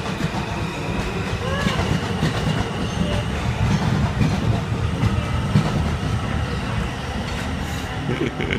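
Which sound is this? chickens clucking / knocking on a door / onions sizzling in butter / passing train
passing train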